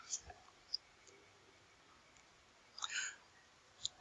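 Faint, close computer mouse clicks in a quiet room come as a few isolated taps and one quick cluster of clicks.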